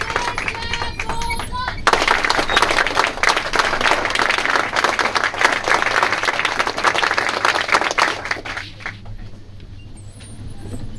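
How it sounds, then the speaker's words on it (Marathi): Loud applause breaks out for police officers at a ceremony. It starts abruptly after a brief voice and continues as dense, energetic clapping for about six seconds, then thins out and stops, leaving quiet room noise. "त्यांच्याकडे जोरदार टाळ्या."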